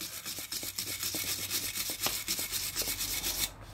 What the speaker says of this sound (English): Get your wire brush.